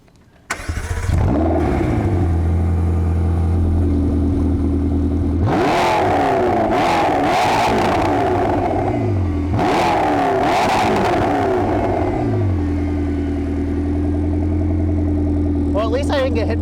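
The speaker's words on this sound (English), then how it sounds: "the engine literally sounds like a Formula One race car" A 2020 McLaren GT engine starts with a bark, then revs hard twice through a loud exhaust, settling into a rumbling idle between bursts, close and loud.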